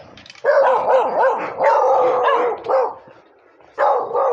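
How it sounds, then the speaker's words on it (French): Guard dogs bark in repeated loud bursts with short pauses between them. A gap of near silence comes before a final close bark. "Les chiens de garde."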